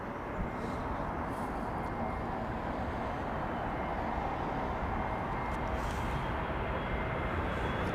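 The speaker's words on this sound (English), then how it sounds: "This BA320 Neo in from Edinburgh." British Airways Airbus A320neo arriving from Edinburgh at London Heathrow, a steady broadband engine roar at even loudness throughout, heard from a distance outdoors with no voices.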